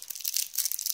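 A sweet wrapper torn open with the teeth, a close, bright burst of crinkling and ripping plastic lasting about a second, with no talking.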